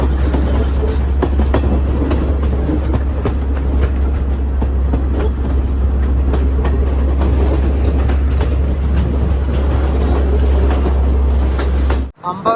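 The Podi Menike Express rolls across a bridge on the Kandy to Ella line in Sri Lanka, giving a loud, steady, close rumble with wheel clatter that continues unbroken until it cuts off abruptly near the end.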